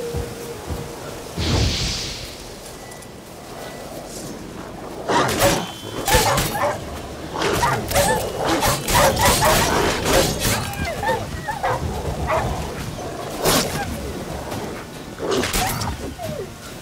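Dogs bark and yelp in Witcher 3 Wild Hunt, loud sharp bursts clustered in the middle and near the end over ambient game sound, with some speech around them.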